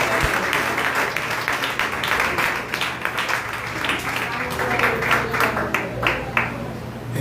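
A church congregation applauds during a sermon, a steady wash of clapping running throughout with a low hum beneath and voices mixed in.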